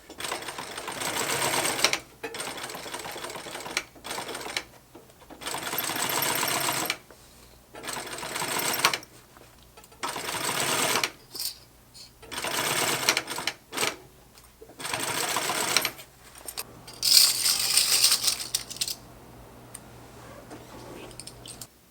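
A sewing machine tacks heavy panels of a giant duffle bag in short bursts of rapid stitching, stopping and starting repeatedly with brief pauses and small clicks between runs.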